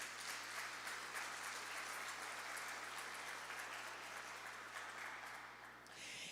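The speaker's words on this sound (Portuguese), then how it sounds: "Aplauda ao Senhor em nome de Jesus." A church congregation applauding at a family worship service, a dense, even wash of clapping from many hands that runs steadily and eases slightly near the end, with no talking.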